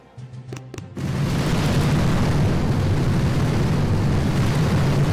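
Loud, sustained explosive roar of grenade blasts in a tank battle video game, preceded by a few sharp pops before a dense rumbling wash fills the rest.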